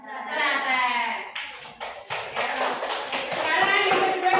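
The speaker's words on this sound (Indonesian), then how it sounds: "tepuk tangan buat kelompok apa?" Classroom children clapping for a group of classmates during a lesson, a burst of hand claps with children's voices and chatter mixed in, close and fairly loud.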